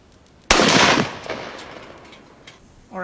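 A single sharp, loud crack from a Savage Axis XP hunting rifle in .308 Winchester, dying away into a fading echo, with a faint sound after it.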